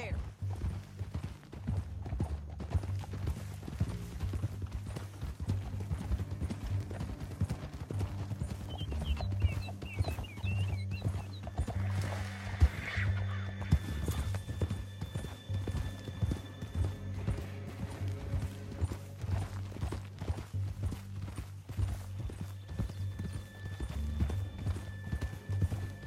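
Steady clip-clop of horse hooves galloping throughout, with a horse whinnying midway and creaking mechanical sounds in the background, in Red Dead Redemption 2.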